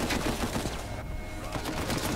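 Rapid bursts of gunfire from a new weapon in Uncharted 4: A Thief's End, loud and dense with repeated shots in quick succession, briefly thinning midway before picking up again.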